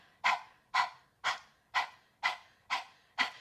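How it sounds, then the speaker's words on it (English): A person pants rhythmically like a dog, seven quick sharp breaths evenly spaced about half a second apart, close and fairly quiet, with no talking. "you could actually start it with a panting breath"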